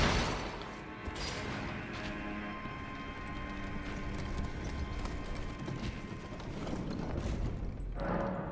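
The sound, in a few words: elevator mechanism activating in the video game Elden Ring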